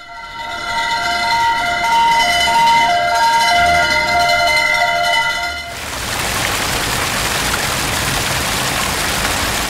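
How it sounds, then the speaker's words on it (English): A fire truck siren wails loudly with a repeating two-tone pattern for about six seconds. It then cuts off and gives way to a steady, rain-like hiss. "Fire truck."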